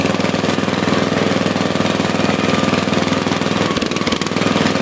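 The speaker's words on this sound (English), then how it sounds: "this is the first video with Tyler's tractor and my tractor." Tractor engine running steadily, with a rapid, even, knocking chug and a loud, close diesel-like rumble throughout, no voices.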